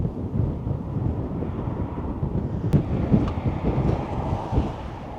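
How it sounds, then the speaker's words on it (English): Steady wind in the Teton mountains buffets the microphone throughout, a continuous low rumbling roar with gusty swells and no voices. "It's windy."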